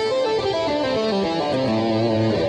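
A short legato lick on electric guitar uses pull-offs, producing a quick, smooth stream of sustained notes with an overdriven, effected tone, played up close and loud with no voices.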